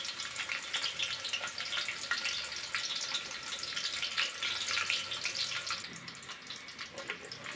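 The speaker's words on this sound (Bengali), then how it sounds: "এখন এর মধ্যে দিয়ে দেব পেঁয়াজ কুচি। কিছু পেঁয়াজ কুচি দিয়ে দিলাম, হাফ কাপ পেঁয়াজ কুচি।" Half a cup of chopped onions frying in half a cup of oil in a wok for chicken kosha, giving a faint, steady sizzle with fine crackles that continues without pause.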